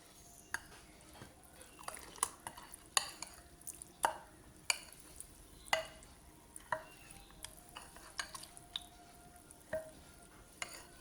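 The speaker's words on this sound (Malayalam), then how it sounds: "നന്നായിട്ടങ്ങ് ഇളക്കണം." A spoon scrapes and clinks through a thick semolina dosa batter in a bowl, with irregular knocks and soft wet swishes, close and fairly quiet, no voices.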